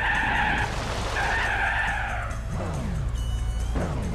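A race car in Gran Turismo 4 spins out, its tires skidding and squealing loudly in a sustained, wavering screech over steady engine noise.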